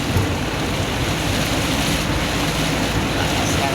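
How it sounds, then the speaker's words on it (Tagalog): Heavy rain pours down in a dense, continuous hiss, loud and unbroken throughout. "Lakas ng ulan."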